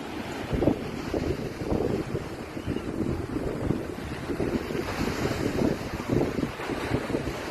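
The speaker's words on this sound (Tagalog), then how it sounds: "Lakas ng alon, hindi kami makaligo guys." Strong surf at Santa, Ilocos Sur, roars and churns continuously, waves crashing close by with gusting wind buffeting the microphone throughout.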